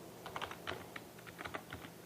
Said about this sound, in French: on va taper par exemple silhouette